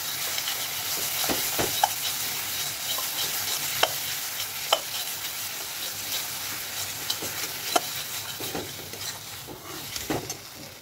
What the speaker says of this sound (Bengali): এই সর্ষের তেলে দিয়ে ভালো করে এরকম করে ভাজতে হবে জিনিসটা।